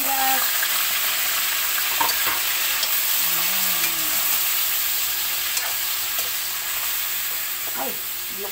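Garlic frying in a pan while being stirred, a loud, continuous close sizzle with occasional scraping and clinking of the utensil against the pan throughout.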